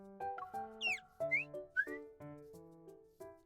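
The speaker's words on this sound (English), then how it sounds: "He adjusts the water level in the bird whistle several times. Sounds of various pitches are produced." A water-filled bird whistle with a woven bird decoration warbles in short trills and chirps, its pitch sliding as the water level is adjusted, close and fairly quiet, in the game Love and Deepspace.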